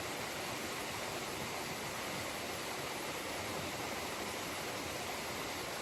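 A waterfall pours down a cliff face in mountain country, giving a steady, unbroken rush of water that stays at an even level throughout with no voices.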